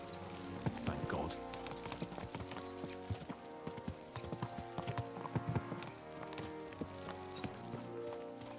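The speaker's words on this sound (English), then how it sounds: "Let's really spur these horses on, eh?" Horses clip-clopping under riders in Kingdom Come: Deliverance II, a dense, steady patter of hooves over a busy game soundscape with ambient noise, moderately loud and continuous throughout.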